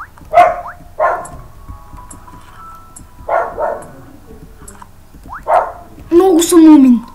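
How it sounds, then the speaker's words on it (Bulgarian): A dog barks several times in separate short bursts, fairly close, with pauses between and a voice speaking at the end. "кучето лай."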